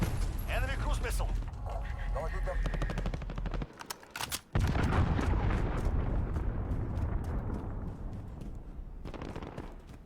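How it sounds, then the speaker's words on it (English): A cruise missile strike in Call of Duty: Modern Warfare lands as a loud, sustained roar of explosions and rumbling gunfire, with a brief drop near four seconds before the blasts and crackling debris continue under game speech. "Enemy cruise missile."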